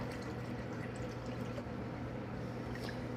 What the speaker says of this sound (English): Next thing we're gonna do is add some ice water and some lemonade.